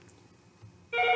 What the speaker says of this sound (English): That's the phone, but we're going to ignore it.